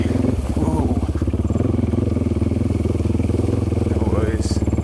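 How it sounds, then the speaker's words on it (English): An adventure motorcycle chugs steadily at low revs as it crosses a river, its engine loud and close with a rhythmic pulsing throughout, with someone talking over it. "Let's see if we can get through it without dropping the bike."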